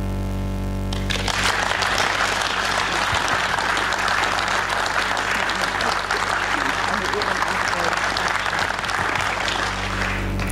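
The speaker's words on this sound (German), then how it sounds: "der Applaus zeigt, welch großen Respekt wir vor euch haben" An audience at a ceremony honouring antifascists breaks into sustained, dense clapping after a brief quiet start, continuing loudly and evenly with some voices mixed in.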